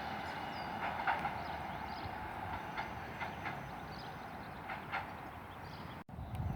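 Train 155345 pulls away from a station in a low, steady rumble, with faint wheel clatter and distant mechanical tones over constant background noise; no voices.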